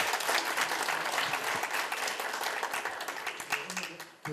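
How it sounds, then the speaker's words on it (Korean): An audience at a regional forum in Gumi, Korea, gives dense, continuous applause to welcome the city mayor, many hands clapping at once, fairly faint and distant, fading slightly toward the end. "우리 큰 박수로 다시 한번 환영 인사드립니다"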